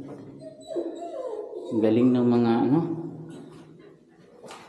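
A dog inside a Japanese tunnel cave gives drawn-out whimpering, howl-like cries that swell loudly in the middle. People talk throughout.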